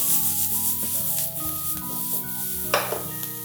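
Onions and garlic sautéing in a pan, a soft crackling sizzle with a few scraping stir strokes and one brief louder burst near the end, close up, with a low steady hum underneath and no talking.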